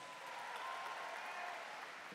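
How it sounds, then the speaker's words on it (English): Faint, distant-sounding applause from a debate audience at a World Scholar's Cup showcase, a soft continuous wash of clapping with a thin tonal hum running underneath. "Give a big round of applause."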